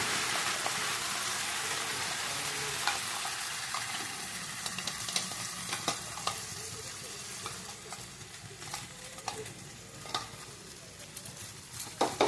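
Ground spice paste sizzles in hot oil in a pan while it is stirred for palak paneer. A dense, steady crackle continues throughout, with occasional soft scrapes from stirring.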